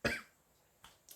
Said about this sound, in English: Excuse me, I've got a cough again.